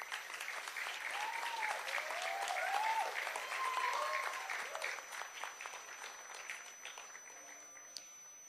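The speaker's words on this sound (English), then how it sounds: "can we please welcome Richa with a huge round of applause?" Audience applause fills a hall at a kathak rangapravesh debut performance, steady clapping that swells around the middle and thins toward the end, with faint crowd murmur underneath.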